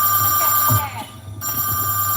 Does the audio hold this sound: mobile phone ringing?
yes